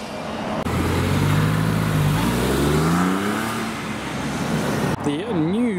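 Engine note from a car downshifting while driving through a British car show, loud and close with the pitch rising and falling across the gear change, then a rising whine near the end.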